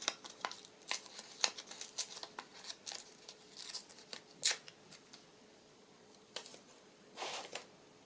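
Paper with a printed fairy image being torn by hand for a journal, heard as a string of short, dry rips and crinkles, some clustered and some alone, fairly close and quiet with no talking.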